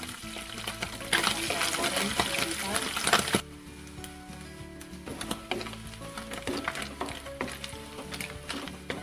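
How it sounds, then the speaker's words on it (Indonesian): Small chopped pieces of chicken liver frying in hot oil, a dense crackling sizzle that swells loudly, then drops to a lighter spatter with scattered pops and clinks of a pan, with faint talk at times. "Sekarang saya panaskan minyak untuk menggoreng hati ayam yang sudah saya potong kecil."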